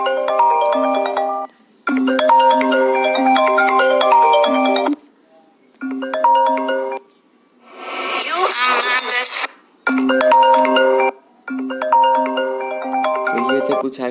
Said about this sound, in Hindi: तो ये थे कुछ आईफोन 10 के रिंगटोन्स।